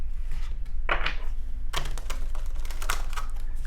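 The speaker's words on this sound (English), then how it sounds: "Let's do a beginning shuffle." A Moonology oracle card deck being shuffled in short papery bursts, two brisk riffles close to the mic in a quiet room.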